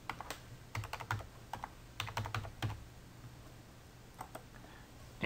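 Keys clatter on a computer keyboard as a phone number is typed into a property search form, several quick bursts of clicks separated by short pauses, close and fairly quiet.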